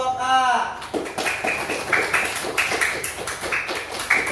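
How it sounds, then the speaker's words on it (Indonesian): Rhythmic group applause rings out in a classroom coaching session, with a brief voice first and then evenly spaced bursts of clapping about twice a second, close and fairly loud. "Tepuk tangan untuk kelompok A."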